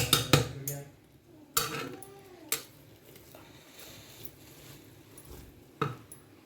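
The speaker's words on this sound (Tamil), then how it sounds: "கிளறி ஆச்சு பாருங்கள் பிரியாணியை" A spoon clatters and scrapes against a pot of egg biryani as it is stirred. The sharp metallic clinks are irregular and fairly quiet, with soft rustling between them.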